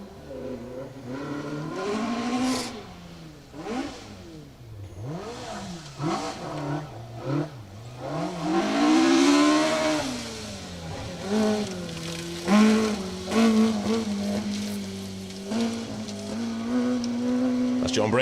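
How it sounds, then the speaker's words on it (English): A Ford Escort Mark II rally car drives through a stage, its engine revving up and down through gear changes and growing louder as it passes, with a commentator talking over it. "Stunning sight of the Rally Extreme Mark II Escort dancing its way through the stage."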